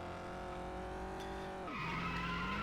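A Nova, an older car, driving in the racing game Test Drive: Eve of Destruction, its engine droning steadily before the tires break into a loud, sustained squeal that continues to the end.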